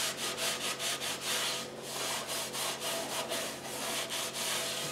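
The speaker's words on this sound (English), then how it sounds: "take that paper towel and rub that salt around inside there" Paper towel scrubs salt around inside a cast iron skillet, a continuous gritty rubbing with quick rhythmic back-and-forth strokes, close and steady with no talking.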